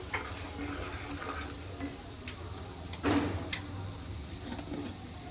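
Rice mixed with turmeric powder and salt is stirred with a spoon, giving soft, steady scraping and rustling with one louder scrape partway through.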